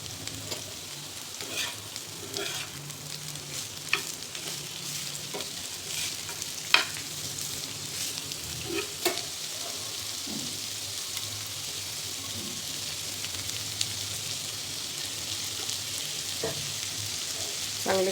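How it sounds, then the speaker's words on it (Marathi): Onion fries in plenty of oil on an old dosa griddle until brown. A continuous close sizzle and crackle goes on throughout, with scattered stirring scrapes and small pops and no voices. "हा जुना तवा आहे डोश्याचा, तोच मी वापरत असते कांदा भाजण्यासाठी."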